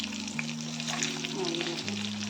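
Stuffed parwal (pointed gourd) frying in a pan as the pieces are gently turned, a soft continuous sizzle under a low steady hum with light scraping touches.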